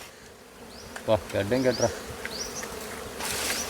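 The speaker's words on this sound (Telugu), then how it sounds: "అమ్మో ఈగలు ఎట్లా బాబా" Honey bees swarm densely around a wild hive high in a tree branch, a constant close buzzing drone while people talk and call out over it.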